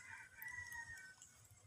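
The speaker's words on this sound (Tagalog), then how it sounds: "Kung maririnig niyo mga katropa, may tumitilawak na labuyo" A red junglefowl crows once, faint and distant across an open field, a drawn-out call over a quiet outdoor background.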